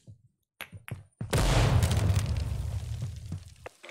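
A grenade detonates in the tactical shooter Ground Branch: a few soft taps lead into a sudden loud, rumbling blast that rolls on for over two seconds before dying away.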